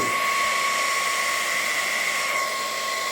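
A hot air soldering gun for plastic welding runs steadily close by at maximum temperature, with a constant whooshing rush and a thin high whine throughout.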